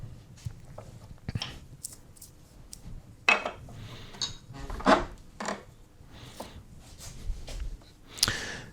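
A knife carves a wooden love spoon, shaving into its middle section in a quiet series of short scraping and rasping cuts spaced irregularly, with a few sharper clicks.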